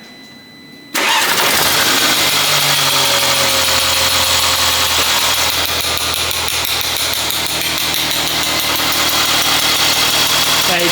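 A Mercedes CLA AMG engine starting: a short cranking before a sudden loud catch, then a steady, fairly close idle with a busy mechanical hum and faint fluctuations that holds through the rest.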